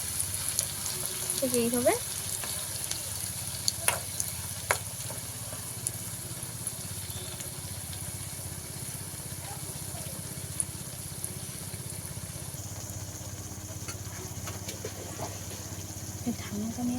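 A ladle of semolina batter with whole cumin seeds fries in a hot pan, giving a steady low sizzle throughout, with a few soft clinks of utensils and a person speaking briefly over it.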